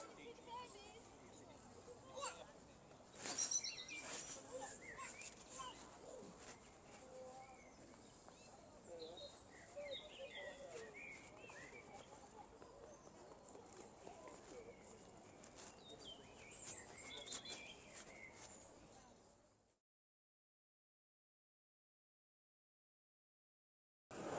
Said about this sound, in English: notice clearly, you will hear the birds singing in the background.